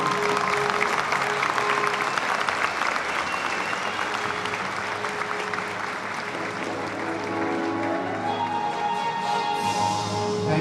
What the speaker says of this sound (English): so we can give you a round of applause for your service